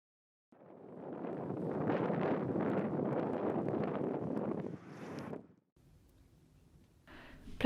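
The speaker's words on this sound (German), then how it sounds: "Meereswind um die Ohren sausen." Wild sea wind on the Dutch coast buffets the microphone with a loud, rushing roar that rises and holds for several seconds, drops away abruptly, and then gives way to faint, softer gusts.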